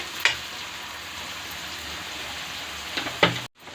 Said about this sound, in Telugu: ఆనియన్స్ ఇలా మంచి కలర్ వచ్చేలాగా దగ్గరగా ఫ్రై అయ్యేలాగా ఫ్రై చేసుకున్నాక